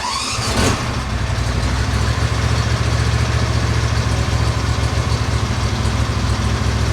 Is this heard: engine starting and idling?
yes